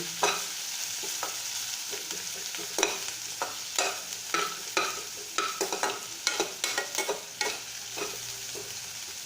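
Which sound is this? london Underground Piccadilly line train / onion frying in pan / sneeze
onion frying in pan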